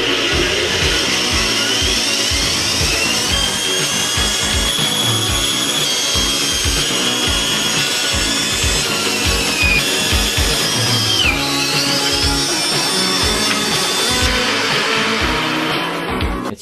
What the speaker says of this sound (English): Oh my gosh, I have a bandsaw.